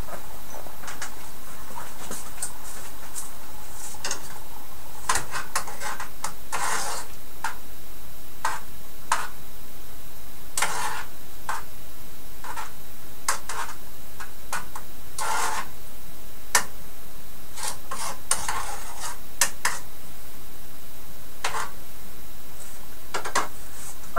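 Peas cooking in a pot for homemade soup get stirred, a spoon knocking and scraping the pot in scattered, irregular clicks and clatters over a steady low background.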